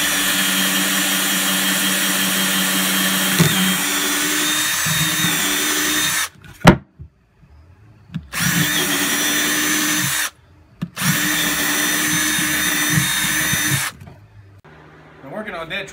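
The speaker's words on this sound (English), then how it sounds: "Drill out the hole." A power drill bores a hole in a wooden cornhole board: three loud sustained whirring bursts separated by short pauses, with a brief clatter in one gap.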